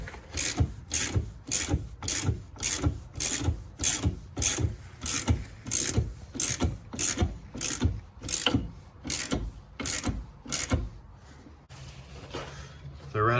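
A ball joint being pressed out of a steering knuckle with a hand-turned press tool: regular, sharp ratcheting clicks repeat about every half second, close and steady, followed by a quieter scraping stretch at the end.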